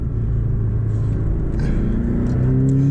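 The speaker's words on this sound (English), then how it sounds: "That automatically puts the sport exhaust on" A Porsche 718 Boxster GTS engine with sport exhaust rumbles loudly and steadily from inside the cabin, with a deep exhaust drone that rises slightly in pitch toward the end.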